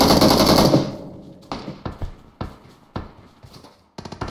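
Weapon fire in PUBG, a dense burst of rapid shots followed by several spaced single shots, each a sharp close crack with a short decay.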